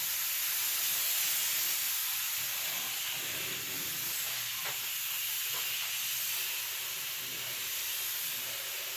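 A spray gun hisses fairly faintly as it sprays lacquer onto furniture, a continuous airy spray with a few soft bumps and clicks in the middle.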